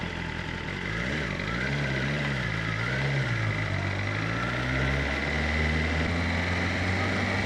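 A BMW S1000RR motorcycle idles after warming up before a morning highway ride, a steady close engine rumble with a slight wavering pitch and no talk.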